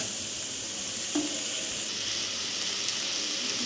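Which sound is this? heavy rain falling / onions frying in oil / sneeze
onions frying in oil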